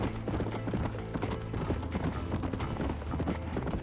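Horses gallop in a race in the video game Red Dead Redemption, rapid rhythmic hoofbeats pounding continuously and close, with a busy mix of game sounds beneath.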